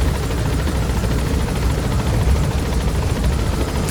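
Helicopter in the video game Metal Gear Solid V: a loud, steady rotor thrum with a continuous rumbling wash that runs unbroken throughout.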